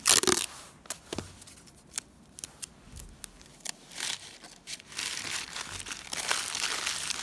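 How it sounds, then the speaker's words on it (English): Paper folded and twisted by hand and wrapped with masking tape to build a sculpture base: close, loud crinkling and crumpling in uneven bursts, with sharp tape rips and tears scattered throughout, no talk. "So you fold your paper, twist it around, tape it as you go around so that it doesn't come unravelled each time."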